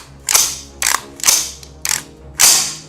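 Metallic clacks and ratcheting snaps come from the bolt of an M635 submachine gun being worked, five sharp, loud, close mechanical actions spaced unevenly with no talking.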